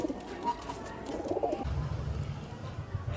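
Madrasi pigeons coo in soft, low, throaty calls, close by against a quiet background, with no one talking.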